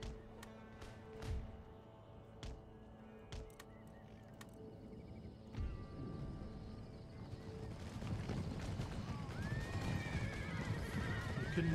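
Scattered sharp impacts give way to a building rumble of hooves in an Empire: Total War cavalry charge, with horse neighs rising toward the end.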